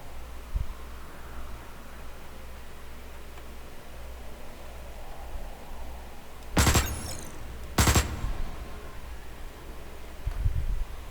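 Two sharp, loud rifle shots ring out a second apart in the sci-fi game Osiris New Dawn, standing out from a quiet low ambient hum, with a softer thump near the end.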